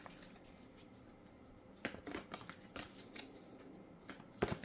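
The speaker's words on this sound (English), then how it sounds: "I'm just gonna do one last shuffle for what ends up on the bottom." Tarot cards being shuffled by hand, a few faint riffles and soft slides, then a sharper flurry of shuffling bursts toward the end, quiet and close.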